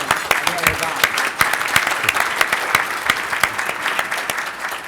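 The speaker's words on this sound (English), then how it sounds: "So give another round of applause for Orange County's own Emile Haddad." Audience at a civic event on future cities applauds a guest, a steady wash of clapping with sharp individual claps standing out, moderately loud and continuous throughout.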